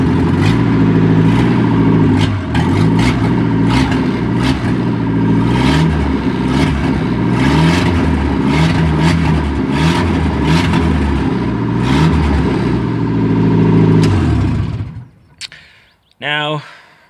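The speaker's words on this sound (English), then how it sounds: "with the car making this much noise, I'm not really driving it that much" A fifty-year-old Ford Escort runs with only an exhaust manifold and no exhaust system, its loud, raw engine note rising and falling through revs for about fourteen seconds before cutting off abruptly into near quiet.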